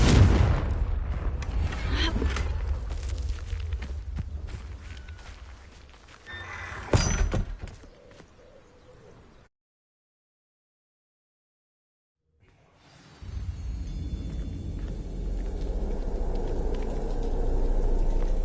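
Confringo blasting spell cast in Hogwarts Legacy: a sharp fiery burst and thud mid-clip over low game ambience, followed by a fade into silence and a return of rumbling background.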